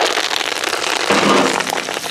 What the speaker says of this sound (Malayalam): കുറച്ച് വേപ്പില